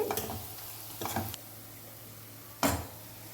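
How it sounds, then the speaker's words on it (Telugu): Onions and green chillies fry in hot oil for mutton keema, giving a low sizzle under three sharp spatula scrapes against the pan. "ఉల్లిపాయలు పచ్చిమిరకాయలు వేస్తున్నాను ఇది బ్రౌన్ కలర్ వచ్చే వరకు వేయించాలండి"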